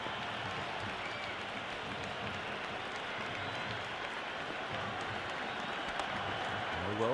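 Steady applause and crowd noise fill an IPL cricket video game stadium during an MI versus CSK match, a constant broad roar lasting the whole stretch, with commentary talk faintly woven through.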